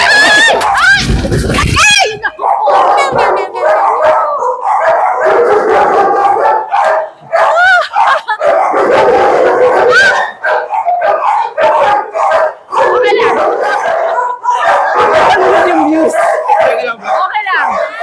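Several large, unusual dogs bark and howl almost without pause, loud and close, with people talking over them throughout.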